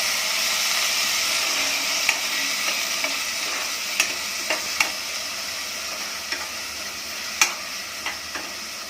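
Onion and green chili sauté in a pan with a constant bright sizzle and hiss, broken by occasional sharp taps and clicks of a spoon against the pan, with no one talking.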